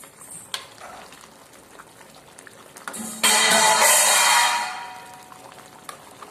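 Nellore village-style fish curry (chepala pulusu) in a covered pot gives off a loud, steady hiss for about a second and a half midway. Quieter faint clatter surrounds it, and no one speaks.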